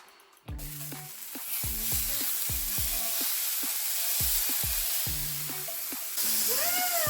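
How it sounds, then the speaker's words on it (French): Butter sizzles and crackles in a hot pan, slightly burning, while crêpes are prepared. A steady frying hiss carries through the clip with close utensil clatter and knocks over it. "je vais prendre du beurre. Et en train de cramer, c'est pas grave."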